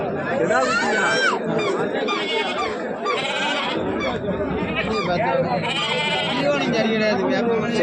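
Goats bleating at a busy Tuesday goat market in Tamil Nadu, many overlapping calls near and far under constant crowd chatter and bargaining voices.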